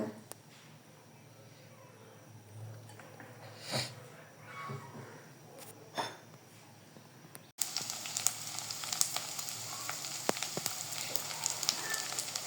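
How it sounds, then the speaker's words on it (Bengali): Oil heats in a hot wok for a hilsa fish and Malabar spinach dish, a faint background hiss with a few soft pops that grows into a louder, steady sizzle partway through. "কড়াই গরম হয়ে গেছে তেল দিব"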